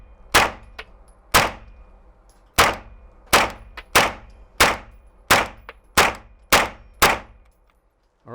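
A CZ Scorpion Evo 3 pistol-caliber carbine fires nine evenly paced shots, each a sharp crack blending into a ringing clang from steel targets, loud and close, with no talking.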